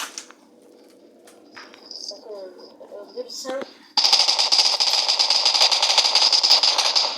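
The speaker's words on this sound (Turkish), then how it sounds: "biri, biri sana çok fena sıkıyor" Gunfire in the video game PUBG Mobile: a quiet stretch with faint ambient sounds gives way to a loud, sustained burst of rapid automatic fire that runs without a break to the end.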